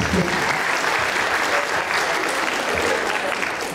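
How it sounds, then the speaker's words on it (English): Conference audience applause at a 2015 English-language teaching symposium, a steady roomful of clapping sustained throughout and tapering slightly at the end. "give them a clap"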